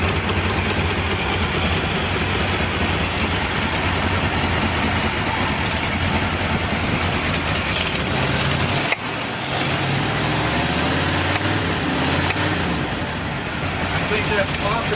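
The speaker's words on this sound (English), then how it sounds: "That's a smooth and torquey motor though, huh?" Ford Bronco 460 V8 idling with a header leak, a steady broadband rumble that runs on and on, with a brief break near the middle before settling back into the same loud, even drone. Voices talk over it.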